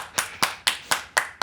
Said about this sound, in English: Clap it up, Frank!